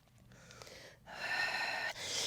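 A sharp, audible breath during a Pilates exercise with a ring on a mat, starting soft and then growing into a long, forceful, airy exhale close to the microphone.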